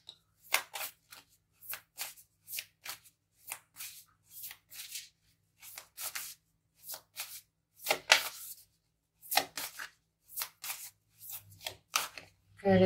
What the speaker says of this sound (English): Okay, let's quickly cut the deck.